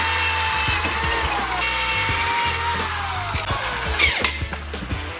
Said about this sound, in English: Next I'm going to drill the holes for the engine mounts.